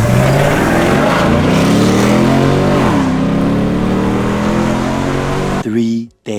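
A straight-piped, LS-swapped, turbocharged New Edge Mustang with cold air intake and long tube headers revs loudly up close, its engine note rising and falling steadily before cutting off abruptly near the end.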